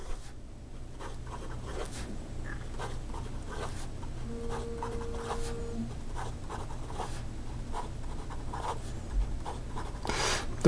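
An Omas Ogiva Cocktail fountain pen scratches quickly across paper in close, quiet strokes, with repeated short rasping bursts and a brief tone partway through.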